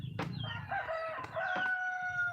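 A native Bisaya rooster crows nearby in a mountain farm setting, one long bright cock-a-doodle-doo rising and held over faint background clucking and farm noise, with no talk over it.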